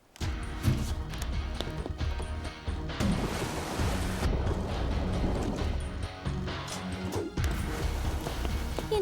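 Cartoon fairy-show scene of waste being dumped into the ocean: loud crashing, thudding impacts and surging water-like noise, dense and continuous for the whole span with no talk.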